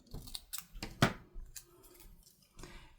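Scissors snipping a paper tag for a junk journal craft, a few quick soft close-up cuts with one sharper snip in the middle.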